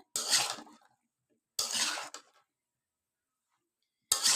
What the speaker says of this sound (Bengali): এখন একটু নেড়ে চেড়ে মশলাটার সাথে মিক্স করে নিব বেগুনটা।